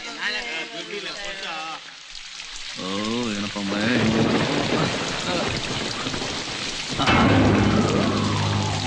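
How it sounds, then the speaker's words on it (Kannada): Heavy rain pours down steadily with thunder rumbling, a dense wash of noise beneath people talking on a rainy morning. "ಬೆಳಿಗ್ಗೆನೆ ಏನು ಮಳೆ ಇವತ್ತು"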